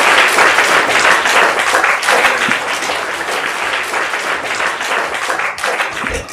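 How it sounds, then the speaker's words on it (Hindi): Loud, close applause fills a game show studio from start to finish, a dense wash of clapping that eases slightly midway and then swells again. "जोरदार तालियां हो जाएं"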